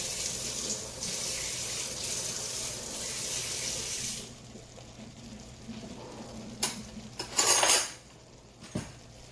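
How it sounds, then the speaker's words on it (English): Hot water runs from a kitchen tap into a pan used for paste, a steady hiss for several seconds before cutting off, followed by a few clinks of metal cookware. "I'm going to put some hot water in the paste pan."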